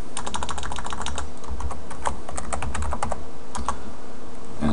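A password is typed on a computer keyboard in quick, uneven bursts of sharp key clicks, close and clear, with a brief pause in the middle.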